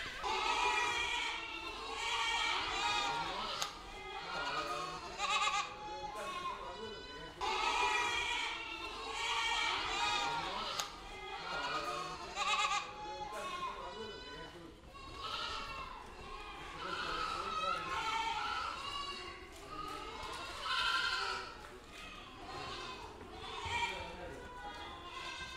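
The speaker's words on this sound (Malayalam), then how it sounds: "പുറത്തേക്ക് ഓടിപ്പോയ ആടുകളാണ് അവരെല്ലാം നേരം തിരിച്ചിങ്ങോട്ട് കൊണ്ടുവരികയാണ്" Goats bleat again and again on a large goat farm in Kerala as the herd is driven back in, a busy mix of near and distant calls under steady talking.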